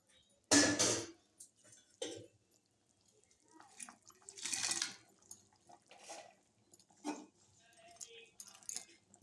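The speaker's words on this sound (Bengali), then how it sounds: "এখন আমি মাছটা এর মধ্যে দিয়ে দেবো।" Fish goes into a pot of fully boiled potatoes, giving a few watery splashes and plops at irregular intervals, soft to moderate and close. Someone speaks in between.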